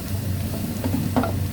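Chicken pieces frying in a pan for chicken lumpia, giving a steady low sizzle with a few brief stirring scrapes near the end, close and fairly quiet, with no talking.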